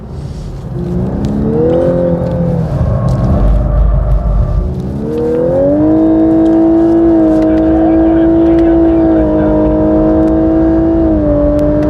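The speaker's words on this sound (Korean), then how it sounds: "계속 가속은 이어지는데 RPM이 RPM만 왔다 갔다 하면서 변속이 일어납니다" A Lexus LC500 coupe accelerates hard on a race circuit, its engine note climbing steadily and rising and dipping in pitch as the gears shift while the car keeps pulling. The sound is loud and continuous, with a voice talking over it.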